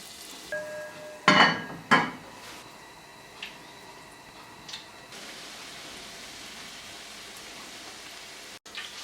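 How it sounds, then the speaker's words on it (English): A steady, crackling sizzle of Viennese carnival doughnut dough frying in hot fat, with a few sharp clatters early on before the hiss settles into an even wash. "put it head first down into your frying fat"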